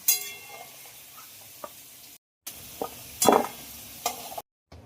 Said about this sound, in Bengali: আলুগুলো ভাজা হয়ে গেছে, এবার উঠিয়ে নেব।